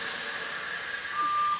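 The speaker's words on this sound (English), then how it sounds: "And there we have our alarm." A fire sprinkler system water flow alarm sounds on a wet system with a riser check valve, a steady electronic tone over continuous rushing noise, growing slightly louder toward the end, with no talking.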